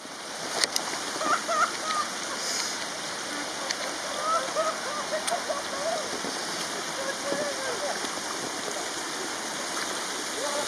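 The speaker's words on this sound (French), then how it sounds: "Ouais, c'est vraiment la cascade, je rigole pas." A waterfall roars as a steady, dense rush of falling and splashing water, with a voice talking faintly underneath and a few sharp splashes here and there.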